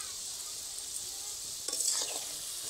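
Kathi gaja sweet sticks frying in oil, a soft steady sizzle close by with a brief louder burst of bubbling and stirring near the end, no talking.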